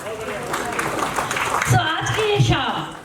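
Audience applause fills an awards evening celebrating students, a steady broadband patter of many hands that runs the whole time, with voices talking over it.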